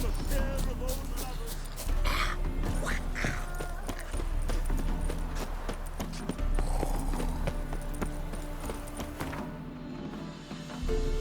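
Horse hooves clip-clopping at a steady walking rhythm in The Witcher 3, loud and close for the whole stretch, with a horse's soft snort and faint game ambience underneath.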